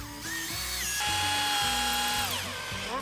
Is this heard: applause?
no